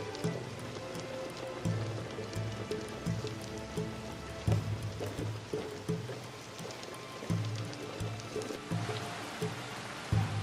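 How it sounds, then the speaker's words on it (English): Rain falls steadily in the video game Assassin's Creed Shadows, a soft continuous patter with scattered droplet ticks and trickling water over about ten seconds, fairly quiet and with no voices. "The rain can mask our escape."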